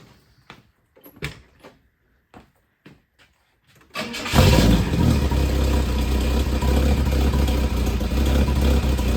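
A few clicks and clunks, then a Ford engine cranks and catches at about four seconds after muffler repairs, settling into a loud, steady rumble close by.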